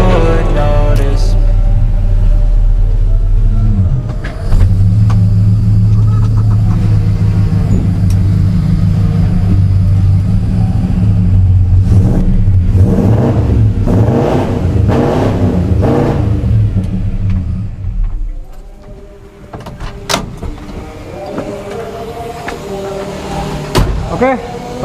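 A fully restored 1962 Chevrolet Impala with an Edelbrock engine rumbles and revs loudly during a test drive, mixed with music and voices, then quietens near the end with scattered knocks.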